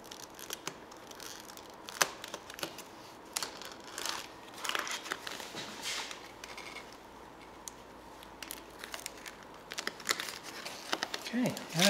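Aluminum foil masking is gently peeled off a model plane, giving soft crinkling and tearing close by, broken by small clicks and handling noises, with some talking in the background.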